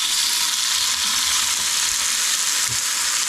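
Kimchi fries in butter in a hot pan with a loud, continuous, close-up hiss of sizzling and occasional soft stirring.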